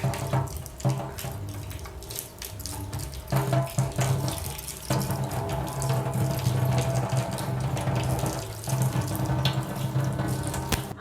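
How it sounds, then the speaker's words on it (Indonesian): Tap water runs steadily into a kitchen sink as it is rinsed of grease while cleaning at home, a continuous splashing rush with small shifts in flow and no talk. "ini kita siram air dulu biar kalau ada minyak-minyaknya apa-apa gitu"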